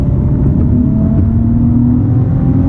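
A 2018 Nissan 370Z engine hums steadily and loud throughout on a rough road, with a low droning tone that builds slightly as the car accelerates. No voices are heard.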